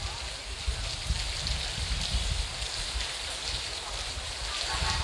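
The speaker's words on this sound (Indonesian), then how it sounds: "Kasihan hari hujan pula." Steady rain falls in a continuous broadband hiss with soft patter, holding an even level throughout with no talking.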